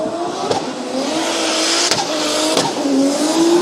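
A Toyota JZX100 Chaser drift car at Formula Drift Japan, Sugo, roars past at high revs, its engine note climbing and pulsing with throttle blips and faint tire squeal, loud and sustained with no talk.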